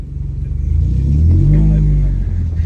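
A convertible car drives past with its engine revving, a loud rumbling surge that builds and then eases, while voices talk faintly underneath.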